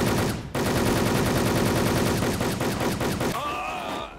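Rapid automatic gunfire from a weapon in an online shooter game, loud and continuous bursts for several seconds before stopping, with no talking over it.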